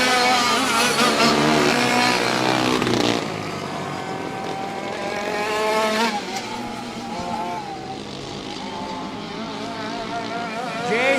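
Race cars on Golden Spike Speedway roar through the infield and back onto the oval, engines layered and shifting pitch as several cars pass, loud and continuous with a faint announcer voice.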